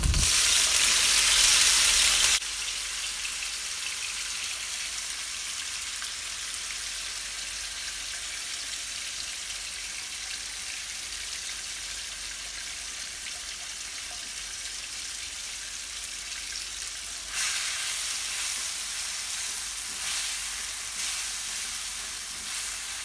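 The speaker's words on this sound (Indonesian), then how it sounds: "Tumis bumbu yang sudah dihaluskan sampai benar-benar matang." Ground spice paste sautéing in a little cooking oil in a wok for squid and petai sambal, a steady close sizzle and fry that runs throughout with a louder burst at the start and a lift near the end, no talking.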